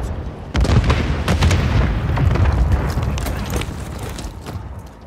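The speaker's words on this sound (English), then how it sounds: "Stun grenade out!" A stun grenade going off in Call of Duty: Modern Warfare 3 Hardpoint multiplayer, one loud close blast followed by a long rumbling, crackling tail amid battle noise.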